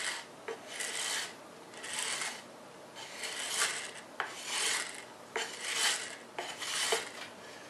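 Abrasive sanding or filing across the inside joins of a lay-up mold, a steady rasping scrape in repeated strokes with short pauses between them, close and fairly quiet with no talking.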